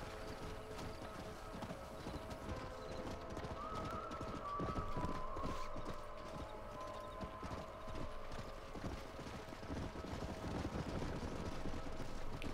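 Horse hooves clip-clopping in Red Dead Redemption while herding wild horses, a steady rapid beat of several animals close by with a brief whinny and mechanical background.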